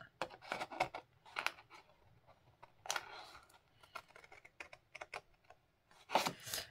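Scissors cutting through paper along straight lines and a diagonal while crafting a 3D scrapbook frame, giving bursts of close, crisp snipping and rustling in short irregular clusters with quiet pauses between.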